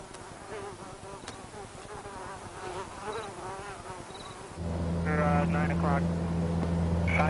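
A dense mosquito swarm drone hums steadily throughout, swelling louder in the second half with a deep, constant whine layered beneath faint voices, beside a river in snowy country.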